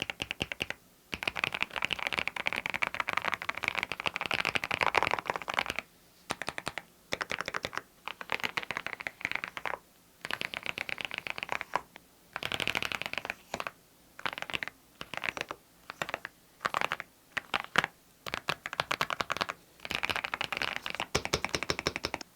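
Fast, steady typing on an Epomaker TH108 Pro mechanical keyboard, dense close-up key presses in bursts separated by short pauses, smooth rather than clicky, with no voices.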